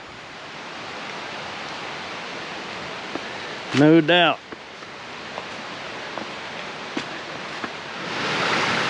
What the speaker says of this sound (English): This creek's flowing pretty good.